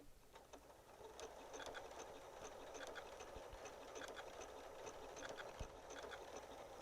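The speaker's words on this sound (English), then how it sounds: "and then start sewing." A Janome high-performance sewing and quilting machine runs in a steady, fairly faint whir with a rapid ticking needle rhythm, continuous from start to end with no talk over it.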